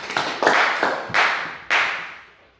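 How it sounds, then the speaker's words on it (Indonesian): Classroom applause from a group of students comes in short bursts of clapping, three or four quick swells that fade between, fairly close and without talk. "beri tepuk."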